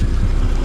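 Loud, close, throbbing engine rumble of a motorized tricycle idling or creeping nearby on a Philippine street, with a steady pulsing low drone.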